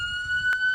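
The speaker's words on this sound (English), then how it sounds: "the ambulance to help us out there" Ambulance siren at a speedway, a steady high tone with a short brighter burst partway through, fairly loud and heard alone.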